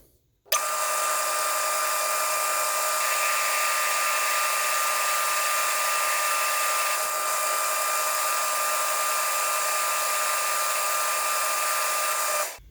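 A lathe turns down a center punch part with a steady, high machine whine that starts abruptly, holds evenly for about twelve seconds and then cuts off.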